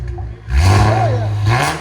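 A 2017 Infiniti Q60 Red Sport 3.0L twin-turbo V6 with no cats revs hard up close, the engine swelling into a loud sustained roar as the turbos spool, then easing off.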